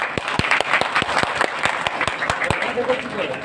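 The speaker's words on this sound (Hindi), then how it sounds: "एक जोरदार ताली बजाने चाहिए" Loud applause from a crowd at a Prajapati community gathering for the organizing team, with sharp individual claps standing out close by over a mass of clapping and some voices.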